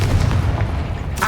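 Confringo fire spell blasts in Hogwarts Legacy, a short booming burst with a heavy low rumble and a quick crackle at the end.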